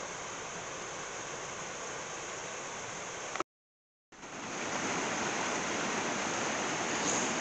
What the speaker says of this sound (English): But I suppose it is a waterfall, can't argue with that.